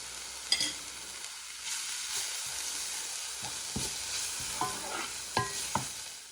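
Garlic, chilli, curry leaves and grated coconut sauté in a pan, a soft continuous sizzle broken by several sharp clicks and scrapes of a spoon stirring against the pan.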